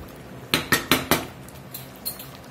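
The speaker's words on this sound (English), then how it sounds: "I'll go in here and scrape the bottom of this pot pretty good." A metal spoon knocks and scrapes against the bottom of a pot of Louisiana chicken sauce piquant: four sharp clanks in quick succession, then a few softer taps, close by with no talk.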